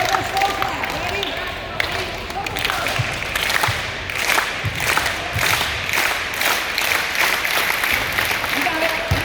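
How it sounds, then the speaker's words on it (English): A crowd in a basketball shooting session with a player starts a slow clap, loud single claps in unison at evenly spaced beats that gradually quicken, with people talking and cheering in between. "So we got a slow clap."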